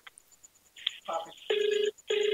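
A telephone ringtone for an incoming call sounds close and fairly loud, with a few short chirps followed by two sustained tonal ring bursts separated by a brief gap.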